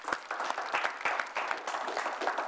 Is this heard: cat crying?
no